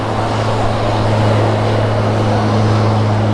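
A steady, droning aircraft engine at San Juan airport in Puerto Rico, a constant hum near a runway with no change in level over a few seconds.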